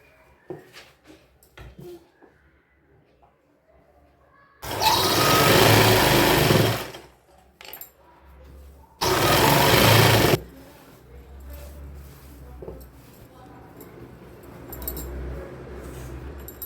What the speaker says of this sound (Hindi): ये पूरा यहाँ से इसको सिलते हुए हम पूरा दोनों पैर की सिलाई लगा लेंगे